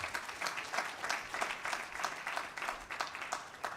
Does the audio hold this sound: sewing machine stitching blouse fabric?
no